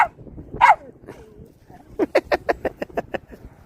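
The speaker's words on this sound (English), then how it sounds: "See, when I said Ski Mask, they all started barking again." Several dogs bark outdoors during a family walk, first a couple of scattered yips and whines, then a rapid run of about ten sharp barks, close and loud, with faint talk between.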